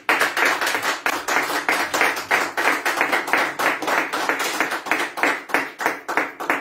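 A church congregation claps loudly and rhythmically in fast, steady unison for Jesus, a continuous burst of hand claps with no cheering voices standing out.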